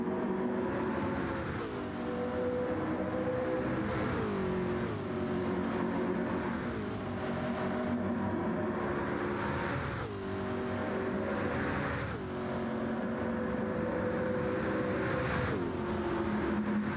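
Race cars in Gran Turismo 7 roar continuously through a sim racing session, engines climbing through gears in repeated rising revs and shifting every couple of seconds, loud and sustained with no talking.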